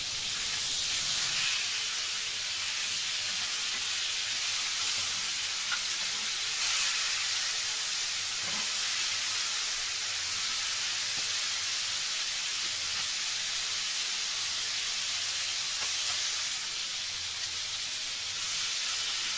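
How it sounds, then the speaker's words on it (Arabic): Chicken pieces seared in a hot frying pan, a steady broadband sizzle and hiss that holds level and close throughout with no talk over it, while preparing an old-style home tray of potatoes with chicken. "هشوح بقى الفراخ وهنرجع مع بعض نشوف هنعمل ايه تاني"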